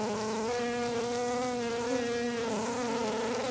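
Honeybees drone steadily inside a hive box, a close, continuous buzz that holds an even level throughout with no voices.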